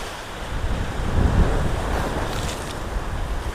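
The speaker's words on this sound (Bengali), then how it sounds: "ঢেউগুলো আসছে একবার দেখো" Ocean waves roll in at a river boundary during a monsoon storm, a loud continuous surging wash with heavy wind noise buffeting the microphone and no talking.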